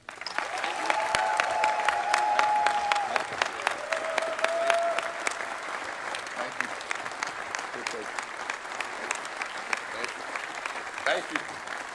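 Applause from an audience welcoming Buzz Williams, new head coach of Maryland men's basketball, at his introduction: steady dense clapping that swells early then thins, with brief cheering or whistle-like tones riding on top.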